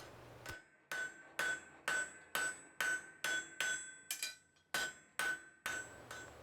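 A blacksmith hammering the tines of a forged fork for a camp cook set, about a dozen sharp ringing metallic blows in a steady rhythm, close and clear.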